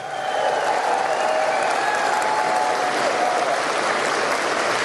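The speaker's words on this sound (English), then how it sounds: "Give them a big round of applause." A rally crowd applauds continuously at steady volume, a dense wash of clapping with no talking over it.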